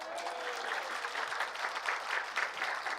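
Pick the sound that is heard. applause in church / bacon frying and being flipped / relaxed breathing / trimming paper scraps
applause in church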